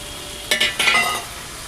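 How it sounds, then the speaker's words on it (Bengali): Ground spices with ginger paste sautéing in a pan for a rohu fish curry with potatoes: a short burst of sizzling and scraping stir, two quick hissing spurts close by, then settling back to a quiet background. "মশলাটা ভালো করে কষিয়ে নেব।"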